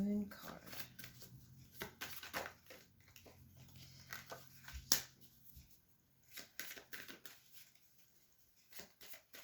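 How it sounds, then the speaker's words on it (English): Animal energy oracle cards are shuffled and pulled during a new moon reading, with soft repeated riffling and card flicks in irregular bursts, close and quiet. "Now we'll pull some energy cards, animal energy cards, to clarify"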